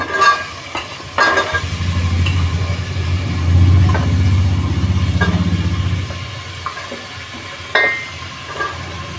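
Onion and mango pieces sizzling and frying in a pan on a gas stove, a steady close hiss of cooking with a few sharp knocks and stirring clatters over it, no talking.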